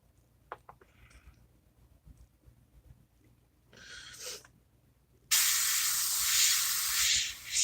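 Tamiya paint is sprayed onto a scale model, first in a brief hiss, then a loud, sustained close-up spray after a few quiet clicks and handling noises.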